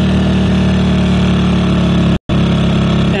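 A portable generator engine, Generac versus Honda units used for charging a Tesla, runs steadily at close range in economy mode, its loud mid-pitched drone holding constant apart from a brief dropout near the end.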